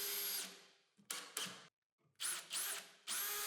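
Power drill driving screws into plywood strips on a workbench: several separate whirring bursts with short pauses between them, close and fairly loud, with no talking.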